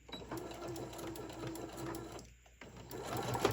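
A sewing machine back stitches a summer tote bag, a steady close whirring run with a brief pause before the motor starts again, loud and alone.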